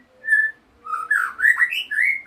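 A white-rumped shama sings a series of clear, varied whistled phrases, rising and falling, close and fairly loud against a quiet background.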